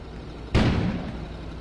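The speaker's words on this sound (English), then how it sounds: "An explosion suddenly occurred outside." A sudden explosion erupts outside in the PSVR game Max Kona, one sharp heavy boom that decays into a low rumbling tail.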